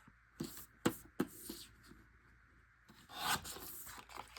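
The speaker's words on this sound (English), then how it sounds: "I am going to trim just a little bit at a time until I know how I want it trimmed" A photo is trimmed for a swimming-themed scrapbook page in a few short, separate cuts and rubs, quiet and close, followed by a longer scraping stroke near the end.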